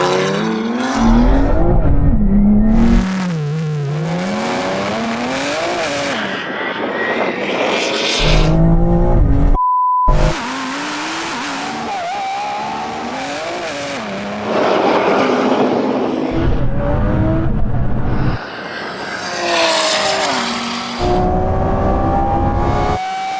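Lamborghini Revuelto, BMW M3 Touring and 1000-horsepower Audi R8 racing: loud high-performance engines revving and roaring through gear changes, with rising and falling pitch sweeps over about twenty seconds, broken by one brief gap, with no talking.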